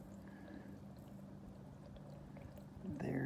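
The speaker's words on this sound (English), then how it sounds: "see the water draining down as it's trying to come" Rainwater drains through a PVC downspout pipe, a faint, steady trickle and gurgle that builds into a louder rush of pouring water near the end.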